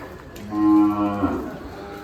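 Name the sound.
cows mooing at ISKCON temple cow shelter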